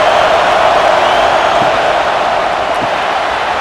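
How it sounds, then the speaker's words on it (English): A steady roar from a stadium crowd fills a College Football 26 game between Alabama and Georgia. The dense wash of noise stays loud and unbroken throughout, with no clear individual voices. "This crowd is trying to inspire this defense to make a big red zone stop."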